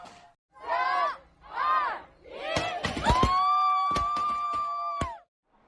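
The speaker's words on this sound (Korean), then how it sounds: "지난 1일 자정부터 봉쇄가 풀리자 환호성이 터져나왔습니다" Shanghai residents cheer at midnight as a 65-day lockdown lifts: a couple of drawn-out group shouts, then whoops, yells and a long shrill tone over close, loud crowd noise.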